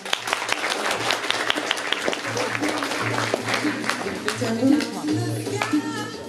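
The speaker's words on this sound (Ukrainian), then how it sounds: "Тож я хочу запросити сюди Катерину Соловивич і оплески" A crowd applauds with dense, steady clapping for several seconds while a voice speaks over it through a loudspeaker.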